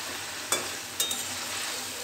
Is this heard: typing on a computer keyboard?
no